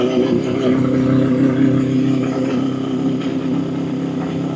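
A Honda CB750 restomod motorcycle engine runs rough while riding in a lower gear, a loud, close, uneven drone with wavering pitch that continues without a break.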